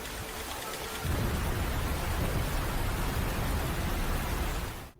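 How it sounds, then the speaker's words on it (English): Heavy rain pours down in a loud, dense hiss in a music track, swelling after the first second and staying constant before fading out abruptly. "walks through the pouring rain, and you get to hear it"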